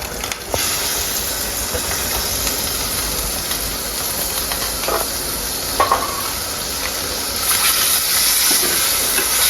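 Tomato, ginger, garlic, green chilli and onion going into hot coconut oil for crab curry, a loud continuous hiss and sizzle with a few faint stirring knocks, swelling near the end.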